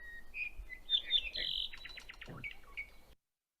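A single ʻApapane bird sings a short, clear phrase of high chirps and trills, followed by a buzzy descending note, then silence.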